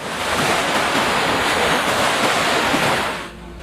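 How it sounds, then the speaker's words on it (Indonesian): Waves crash and churn along the Red Sea shore at night in a steady, loud roar with windy rumble, cutting off to near quiet at the very end. "di tepi Laut Merah yang sepanjang malam gelisah bergemetaran, meluapkan gelombang-gelombang yang saling berbenturan"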